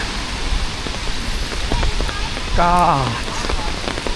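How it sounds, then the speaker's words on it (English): Heavy rain pours down on a city street at Jiefangbei, a dense, loud, continuous hiss of drops striking surfaces, with a voice briefly calling out over it. "Oh, look, it's really big rain."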